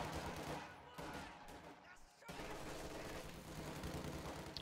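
Dense machine gun fire and scattered gunshots rattle continuously through a Company of Heroes 2 battle, loud and busy with overlapping bursts and battle noise, a brief lull near the middle, with a voice talking over it.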